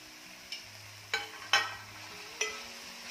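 Fenugreek leaves and lentils being stirred in a pan, with a few short scraping clatters spaced across a quiet background and a faint low sizzle beneath.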